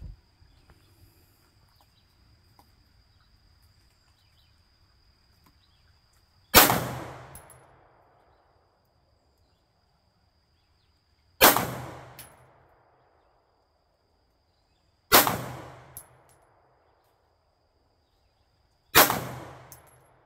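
Four single pistol shots fired with a red dot sight at steel targets, each a sharp loud crack with a ringing metallic tail, spaced several seconds apart with quiet gaps in between.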